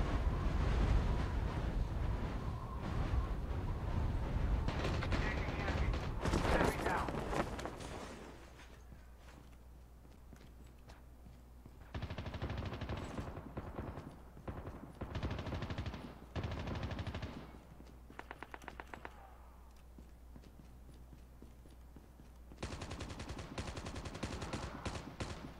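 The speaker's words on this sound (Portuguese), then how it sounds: "Quem tá atirando?" Gunfire from the Call of Duty Mobile battle royale, with rapid automatic bursts in loud stretches broken by quieter gaps, over a steady game background.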